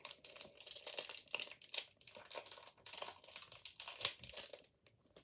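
A cricket card pack wrapper is torn open, with close, continuous crinkling and ripping of foil-like plastic and one sharper tear near the end, no talking.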